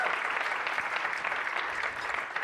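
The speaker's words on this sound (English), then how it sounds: "Let's give everybody a round of applause." Conference audience applauding volunteers, a continuous, even roar of many hands clapping in a large hall, steady and fairly loud throughout.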